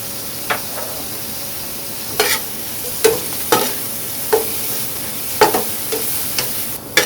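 Carrots being stir-fried with sesame oil in a hot pan: a steady sizzle broken by about a dozen sharp scraping stir strokes at uneven intervals, with no talking.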